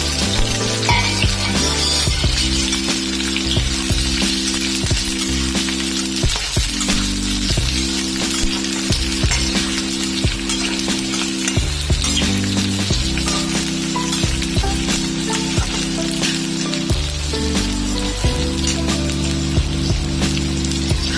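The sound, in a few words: garlic and onion frying for pizza topping sauce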